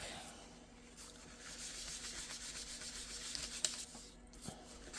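Tissue paper rubbed across the back of a greeting card, a soft continuous papery scuffing with gentle strokes, close and quiet with no talking.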